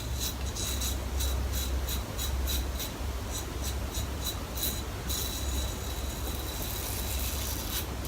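Safety razor with an aluminium head shaving over stubble: repeated short, scratchy rasping strokes, close and continuous, with a faint underlying hiss.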